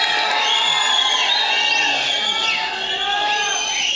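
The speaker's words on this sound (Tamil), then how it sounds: "ப்ளீஸ் ஒரு பெரிய கைத்தட்டல்" Crowd at a film event cheering as the actor STR comes on stage, a dense, continuous roar of shouts and whoops with no clear gaps, loud and sustained.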